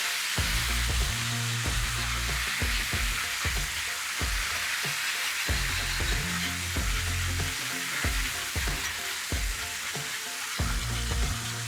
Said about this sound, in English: We're gonna take the salty liquid, slowly add it to the oil, and whisk and whisk and whisk and whisk and whisk.